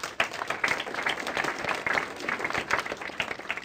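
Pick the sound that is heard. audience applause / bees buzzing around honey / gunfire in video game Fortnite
audience applause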